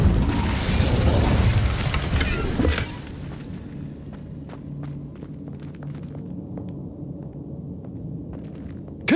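A fire spell is cast in Hogwarts Legacy, opening with a loud burst and roaring flame for about three seconds before fading into a quieter rumbling ambience with scattered light clicks and taps.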